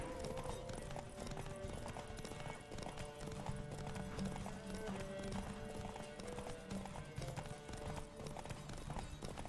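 Roach the horse gallops in The Witcher 3, a steady rhythmic clip-clop of hooves under a continuous musical score, with a short whinny, all at low volume.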